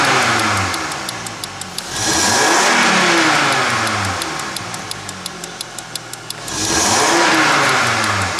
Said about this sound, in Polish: Sprawdźmy reakcję na pedał gazu.